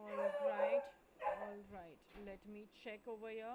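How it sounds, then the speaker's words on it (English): A dog barks, yips and whimpers in a home background, with several short bursts scattered across the moment while someone speaks over them. "I am sorry for that barking in the background."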